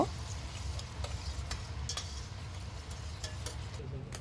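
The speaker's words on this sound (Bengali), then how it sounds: "পেঁয়াজটা দিয়ে আমি ভালো করে নেড়ে চেড়ে হালকা লাল করে ভেজে নিব" Onions frying in a pan for a Bangladeshi rezala, a soft low sizzle broken by several sharp clicks and scrapes of a spatula stirring against the pan, close but quiet.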